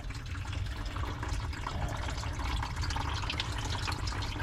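Drained water pours steadily from a vehicle's cooling system, a continuous broadband rush and trickle with no talk over it.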